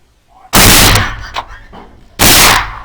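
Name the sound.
rifle shot at a boar, Grendel ammo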